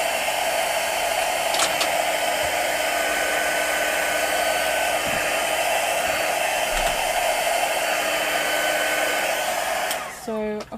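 A hair dryer blows steadily and loudly for about ten seconds, drying spritzed mica on a journal cover, then cuts off at the end.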